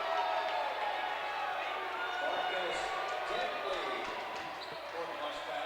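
A gym crowd at a college basketball doubleheader, Albright vs Stevenson, keeps up a steady roar with sneaker squeaks and ball bounces, and a commentator's voice sits over the noise.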